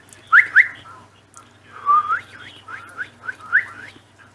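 A pet bird whistles in short, bright rising notes, a couple of quick chirps then longer warbling phrases, close by in a quiet room.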